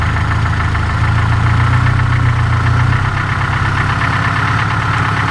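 Ford Festiva engine idling with a corked, slightly knocky running note: a steady, loud low rumble throughout, easing a little in pitch partway through, with no talking.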